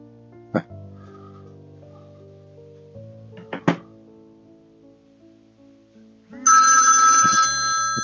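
A TTFone TT760 mobile phone ringing after a few faint knocks, its bright electronic ringtone starting loud and close and holding steady through the final seconds.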